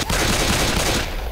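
Rapid gunfire in Left 4 Dead 2 erupts as a dense, loud burst of overlapping shots that holds steady for about a second, then thins out.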